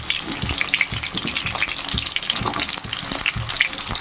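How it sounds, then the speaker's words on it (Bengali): Pointed gourd (potol) pieces frying in hot oil in a pan, a close, steady crackling sizzle with bright spattering pops and occasional stirring knocks throughout. "পটলগুলোকে শুধু তেলে খুব সুন্দর করে ভেজে নিতে হবে"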